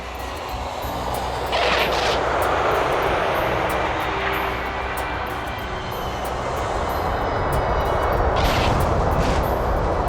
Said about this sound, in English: And now the Pan Am is arriving